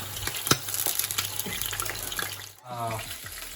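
Frozen chicken burger filling fries in a hot pan with a close, loud sizzle of steady hissing and crackling pops. The noise dips briefly before the bubbling sputter picks up again.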